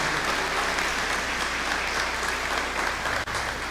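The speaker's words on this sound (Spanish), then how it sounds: "Aplauso para el Señor." An audience at a Catholic teaching event gives a brief burst of continuous applause, a uniform wash of many hands clapping at moderate distance, with no talk over it.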